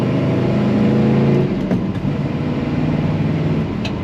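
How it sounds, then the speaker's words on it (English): A 1970 Pontiac Tempest with a three-on-the-tree manual transmission accelerates, its engine note loud and steady throughout, with a slight shift in tone partway through as it keeps pulling. "Very nice acceleration, smooth throttle, smooth running car."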